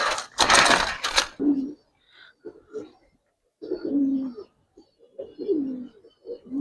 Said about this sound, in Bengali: অনেক ছটফট করে কবুতর ভাই।